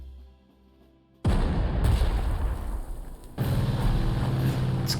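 Artillery unit coming under attack in the wartime strategy game Panzer Corps 2, heavy booming gunfire bursting in abruptly after a quiet start, dense rumbling blasts continuing loud for several seconds with a brief dip midway.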